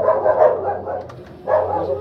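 A Rottweiler at a kennel barks in two loud bursts, the second after a short pause, at close range.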